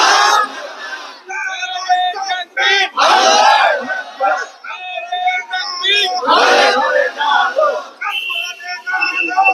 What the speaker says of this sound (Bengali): একটা তাকবীর ধরেন তো দেখি, তাকবীর ধরেন।